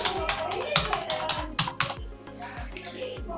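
Keys clatter on a Mac computer keyboard as a password is typed, a close run of quick, uneven taps that thins out toward the end.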